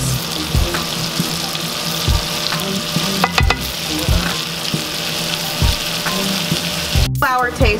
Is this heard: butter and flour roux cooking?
yes